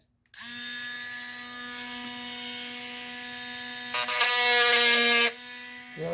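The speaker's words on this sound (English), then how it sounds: "I take the Dremel" A Dremel rotary tool drilling a hole into the base of a glass light bulb: a sharp start into a steady high electric whine that climbs brighter and louder as the bit bites, then drops back near the end.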